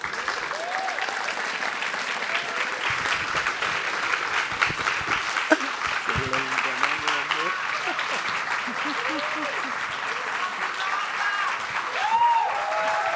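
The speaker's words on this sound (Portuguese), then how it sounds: "Palmas para Cidinha" An audience claps in sustained applause after a podcast talk, a dense, even patter throughout with voices speaking over it in the middle and near the end.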